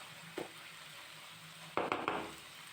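Chicken and vegetable spring roll stuffing cooking in a pan: a quiet, steady background sizzle broken by a brief clatter early on and a cluster of louder stirring scrapes near the end.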